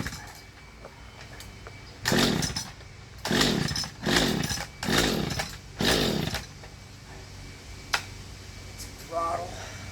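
Mantis tiller's small engine after a carburetor diaphragm replacement, revving in five sharp bursts of rising buzzing whine, each dropping back to a rough idle, with a short knock near the end and a voice speaking in between.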